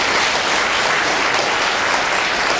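Warm, sustained applause from a lecture audience at a Central University of Finance and Economics talk welcoming a Buddhist abbot, a dense unbroken wash of clapping, loud and close throughout.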